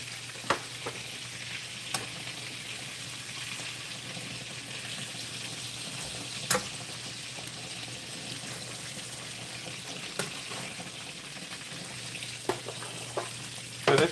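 Hamburger patties fry in their own rendered grease in a pot or skillet with no added oil, a steady close sizzle and crackle with occasional sharper pops, continuous and without voices.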